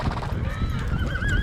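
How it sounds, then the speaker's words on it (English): Horses on a long-distance horse drive: a rising whinny at the end over a dense, low rumble of hooves, all heard up close. "the horses are on the move"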